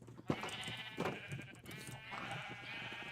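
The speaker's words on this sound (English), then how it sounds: "I'm gonna point you guys at the sheep" Sheep in the Minecraft video game let out a few quick, close bleats back to back, wavering and nasal, over a quiet background.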